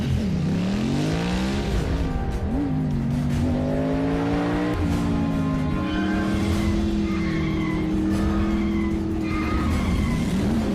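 Cartoon cars racing down a street, engines revving with rising and falling whine while tires squeal and skid, loud and continuous throughout.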